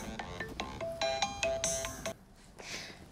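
A melodic phone ringtone plays a quick series of bright electronic tones for about two seconds, then cuts off, fairly faint and alone in a quiet room.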